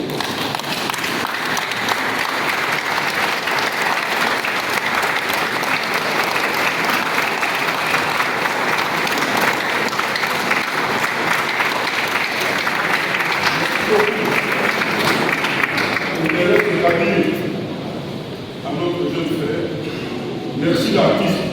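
A standing audience at a memorial gathering for a Congolese music artist claps frenetically in a dense, loud, sustained roar of applause that eases slightly near the end.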